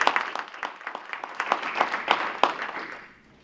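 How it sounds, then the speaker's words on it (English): Applause from an academic event audience thanking supporters, a burst of scattered hand claps that rises and then fades out toward the end, fairly quiet and heard without talk. "Please join me in a round of applause for our generous supporters."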